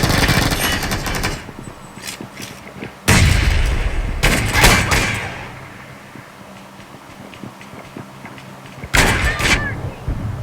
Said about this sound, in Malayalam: ഒരു ബോംബ്